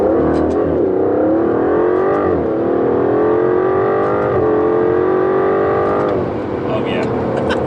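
An Aston Martin DBS Superleggera accelerating hard from about 60 mph after heavy braking, its engine note loud and continuous as it climbs steadily through the revs, heard from inside the car.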